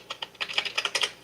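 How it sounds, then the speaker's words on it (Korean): Keys clack on a Bluetooth-connected computer keyboard, about a dozen quick, close taps in an uneven typing rhythm with no talking. "제가 지금 블루투스로 연동이 돼가지고 어, 타자기도 치고 있어요."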